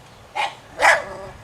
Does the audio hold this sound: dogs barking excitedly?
yes